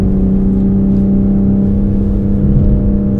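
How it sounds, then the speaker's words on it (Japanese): A 2025 Aston Martin Vanquish engine in Sport Plus mode drones loud and steady, exhaust valves open, a deep throaty exhaust hum holding close without pause on a winding road. "エキゾーストもねバルブさらに開いた感じがしますね"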